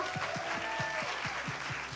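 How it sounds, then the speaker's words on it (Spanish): A live audience at a Friday-night faith talk event in Miami applauds, a dense wash of claps with a steady, regular thump running beneath it. "vamos a darle un aplauso a todas las personas que están viendo online este video"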